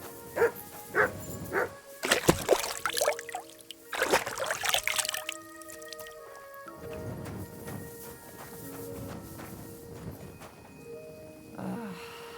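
A dog in the video game Kingdom Come Deliverance 2 gives several sharp barks in quick bursts, mixed with clip-clopping hooves and sustained tonal game sounds, moderately close and with no voices.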